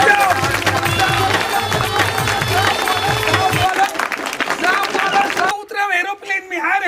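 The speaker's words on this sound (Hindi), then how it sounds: "बच्चा बनेगा जोरदार ताली बजाओ" An audience bursts into loud, rapid clapping and cheering at a Chhattisgarhi comedy show. The clapping fades out after a few seconds, leaving voices talking and babbling.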